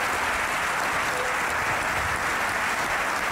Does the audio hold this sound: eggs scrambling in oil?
no